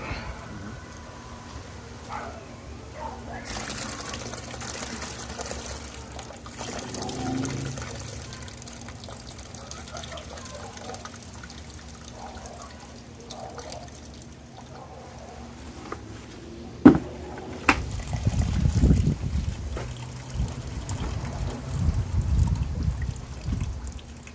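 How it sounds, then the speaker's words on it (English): Petite Sirah grape juice pours from a small wine press in soft trickling bursts, fairly quiet, amid low background noise and scattered handling clatter. "A little press, a little pour. Repeat."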